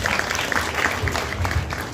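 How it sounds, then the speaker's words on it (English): An audience claps at a national primary schools music festival, honouring a commissioner. The applause is a dense, steady patter of many hands that holds at an even level for about two seconds. "Let us give our commissioner a very deserving hand clap, ladies and gentlemen."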